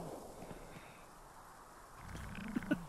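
A cat purrs quietly and steadily at close range against a low background hum, with a couple of faint soft clicks near the end.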